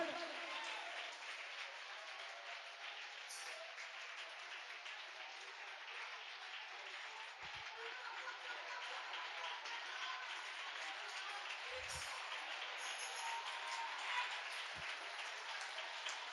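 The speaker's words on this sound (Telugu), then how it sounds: "విశ్వాసముతో చప్పట్లు కొట్టి దేవుని కనపరచు." A worshipping congregation at a New Year church service claps steadily throughout, a dense continuous patter of hands with no clear rhythm, sustained at even loudness.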